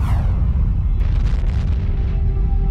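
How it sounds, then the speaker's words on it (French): A gamma-ray burst rendered as an explosion effect: a deep, rumbling boom with a crackling, hissing tail, loud and unbroken, with no voices. "La plus grosse explosion qui ait secoué l'univers depuis le Big Bang."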